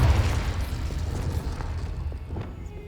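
Confringo explosive spell blast in the Hogwarts Legacy video game, a deep booming burst at the start that rumbles and fades over a few seconds, with faint scattered pops after.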